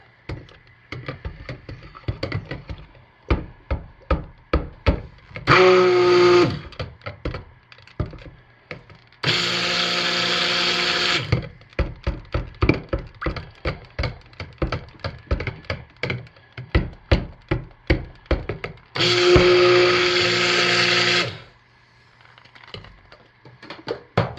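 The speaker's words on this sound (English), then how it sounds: "So let's get started very carefully with the stick blender." A stick blender mixes cold process soap batter in three sustained bursts of steady whirring, close and loud, with rapid clicking and knocking between runs.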